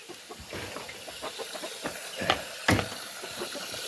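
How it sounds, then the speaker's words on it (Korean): Steady hissing spray of water from a pinhole leak at a chicken coop runs throughout, with scattered splashes and a sharp burst near the end; no talking. "바늘구멍인데 이렇게 물에 바로 떨어지니까 물소리가 시원하게 들리네"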